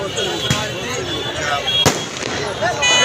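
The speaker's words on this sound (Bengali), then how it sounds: "থেকে থেকে আতসবাজি পড়ানো হচ্ছে" Fireworks bursting over the crowded beach at Cox's Bazar, two sharp cracks standing out above a constant wash of crowd noise and beach ambience, heard at a moderate distance.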